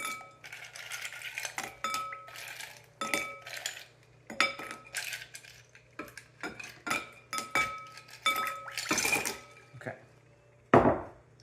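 A utensil clinks and scrapes against a bowl in repeated bursts as hot Jell-O with ice is stirred, with sharp metallic rings between quieter pauses.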